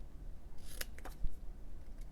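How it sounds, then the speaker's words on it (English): Scissors snip through cardstock for a handmade card, cutting up the center: a few quick, crisp close-up cuts clustered together, with a quiet room behind them. "So snip it up the center"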